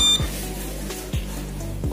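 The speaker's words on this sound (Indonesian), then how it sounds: "Kelihatannya ini nih yang bikin bunyi adalah pompa" Water pump of a home solar power system giving short electronic beeps at roughly one-second intervals over a steady low hum, close by.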